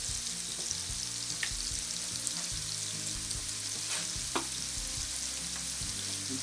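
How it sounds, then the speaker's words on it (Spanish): Potatoes fry steadily in a pan with a constant sizzle, broken by a few faint clicks and scrapes from stirring and no voices. "Que se fría bien, que se tueste también."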